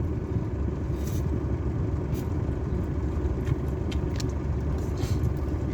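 The farm owner's regular vehicle, a rumbling engine held at a steady low drone throughout, close and continuous with no talk over it.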